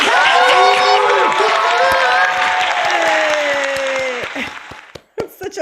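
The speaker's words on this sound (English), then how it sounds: "Such a large applause." An audience at a comedy show applauds loudly and cheers, with whoops rising above the clapping as a comedian comes on stage; the ovation stays full for about four seconds, then falls away quickly.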